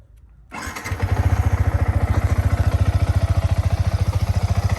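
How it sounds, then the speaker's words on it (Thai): A Yamaha XSR 155 motorcycle with a 155 cc single-cylinder variable-valve engine starts after a brief quiet moment, then settles into a steady, rapid, even idle thump heard up close and loud. "เดี๋ยวต่อไปเรามาดูมาฟังเสียงเครื่องยนต์กัน"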